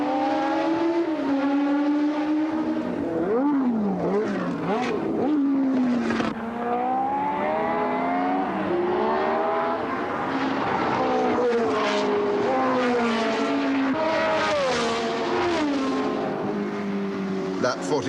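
Formula One cars at the 1970 Spanish Grand Prix roar past in a race, engines rising and falling in pitch as they pass and shift gears, loud and sustained, with a commentator talking over them.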